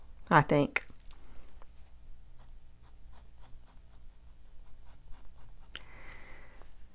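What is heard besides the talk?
fine pen sketching on paper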